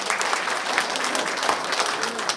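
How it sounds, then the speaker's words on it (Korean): An audience claps steadily and densely at a residents' public hearing on building a community sports centre in Goa-eup, a continuous wash of applause lasting the whole moment with no clear speech. "박수 한번 부탁드립니다"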